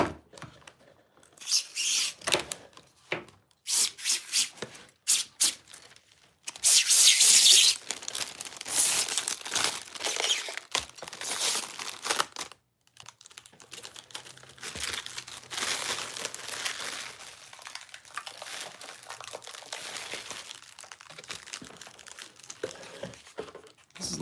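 Protective plastic film peeled off an object, with dense crinkling and crackling in irregular bursts, loudest in a sharp stretch early on, then softer, steady rustling continuing close up.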